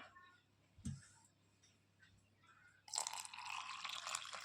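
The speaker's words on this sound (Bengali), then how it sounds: "ঠান্ডা জল নিয়ে নেব।" Cold water pours into a glass for sattu juice made with black salt and lemon, a steady close splashing that starts midway after a few faint clinks and drips.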